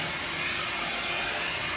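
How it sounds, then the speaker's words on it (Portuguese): A hair dryer brush running with a steady, airy hiss and whoosh, close and continuous throughout. "Ela é uma escova secadora."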